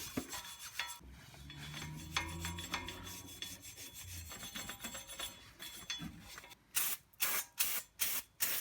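A Honda front wheel bearing hub is scrubbed clean by hand after the brake rotor comes off, with rough scraping and rubbing strokes that end in a run of quick rhythmic brushing bursts, close up.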